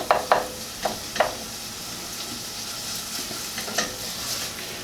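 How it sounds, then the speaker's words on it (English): Tomato paste for a marinara sauce sizzles and cooks down in a pan, a soft steady hiss punctuated by a few spoon-stirring scrapes near the start and again toward the end. "I'm going to let this cook down for a second. This will give the tomato paste a second to caramelize"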